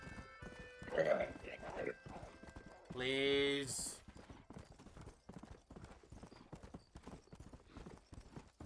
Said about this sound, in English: I'm riding a horse in the Wild West.